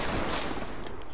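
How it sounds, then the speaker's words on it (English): Rapid gunfire from a shootout in the video game Fortnite, a dense burst of shots filling the moment, loud and close with no talk over it. "Why are you shooting me?"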